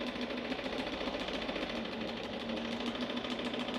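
A sewing machine hums continuously at close range, stitching along a seam of a dish towel being made into a pot holder, a steady mechanical drone without pauses or voices.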